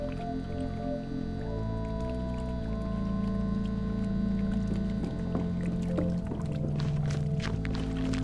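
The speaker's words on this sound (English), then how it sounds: "I shake the can, slosh of petrol at the bottom." Petrol sloshing at the bottom of a shaken can, soft liquid swishes and drips heard close up over a steady low hum and tonal background music, with no voices.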